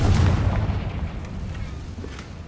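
A Bombarda or Confringo spell explosion in the Hogwarts Legacy video game, a deep rumbling boom that hits at once and slowly fades over a couple of seconds.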